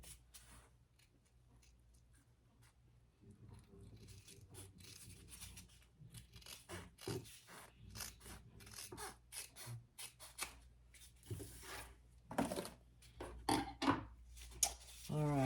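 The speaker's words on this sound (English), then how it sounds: "I am going to trim it all the way around. Really close on those curves." Scissors snip and crunch through fabric while trimming a sewn bag closely around its curves, a series of short irregular cuts that grow louder and denser toward the end, close and quiet.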